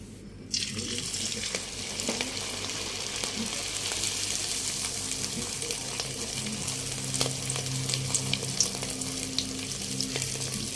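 Luchi, a semolina puri, fries in hot oil on a gas stove with a steady, continuous sizzle and bubbling that holds evenly from start to finish, close and fairly loud, with no talking.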